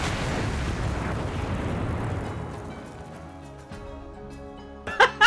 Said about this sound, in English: you blow up the alchemy table.